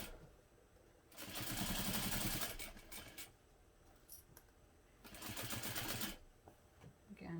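A sewing machine back stitches over the strap connectors of a small Rossatron bag, running in two steady bursts of rapid stitching, each about a second or more long, separated by quieter pauses.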